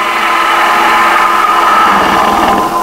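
A detail gouge cuts into spinning wood on a lathe, giving a loud, steady scraping hiss with a faint underlying motor hum, close and continuous for a few seconds.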